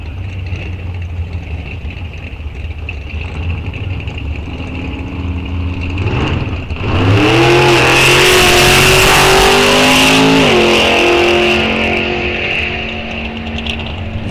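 Drag race car number 392 makes a test-and-tune pass at Rock Falls Raceway: a low engine idle, then a sudden loud launch into a rising, climbing roar through several gear shifts, fading at the end.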